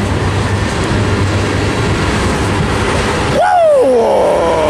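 Steady rumble of a passing freight train at Tehachapi with rolling wheel noise, then a loud horn blast near the end.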